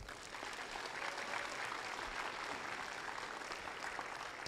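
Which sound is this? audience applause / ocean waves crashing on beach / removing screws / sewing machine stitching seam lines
audience applause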